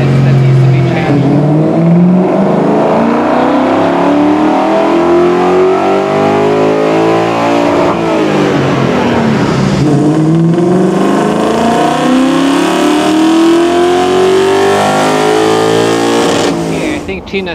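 A Porsche 964 or Mach 1 Mustang engine revs at full throttle on a dyno, loud and continuous, its pitch climbing, dropping near the middle and climbing again before easing off at the end.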